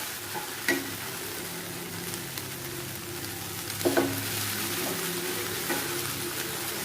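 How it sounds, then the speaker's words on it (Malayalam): Okra stir-fry stirred in a pan over a medium flame makes a quiet, continuous sizzle, broken by a few scraping clinks of the spoon against the pan, with no talk. "ഇനി നമുക്ക് ഒരു മീഡിയം ഫ്ലെയിമിൽ വെച്ചിട്ട് നന്നായിട്ടൊന്ന് ഇളക്കി യോജിപ്പിച്ചെടുക്കാം."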